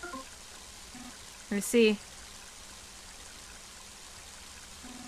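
Heavy rain from the Mother 3 video game falls as a steady, soft wash throughout, with a brief spoken voice cutting in near the middle.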